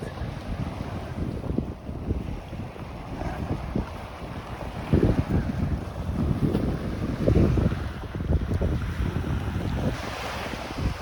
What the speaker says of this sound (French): alors là par contre on est en plein vent